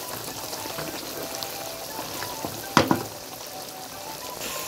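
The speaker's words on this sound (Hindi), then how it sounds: "चिकन बहुत अच्छे तरीके से फ्राई हो चुका है" Chicken chunks fry in a pan with a continuous crackling sizzle that rises briefly into a sharper clatter near the middle, close and moderately loud.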